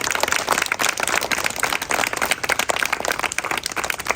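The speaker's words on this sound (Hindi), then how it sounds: "अप्रिशिएट तो होना चाहिए तालियों से" Dense applause from a crowd celebrating a beautiful Eid moon artwork, steady and loud throughout with no gaps or voices.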